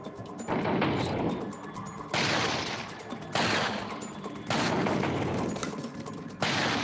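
Rapid bursts of gunfire at a shooting range in Resident Evil 4 VR, loud and close, coming in four sustained volleys separated by brief pauses.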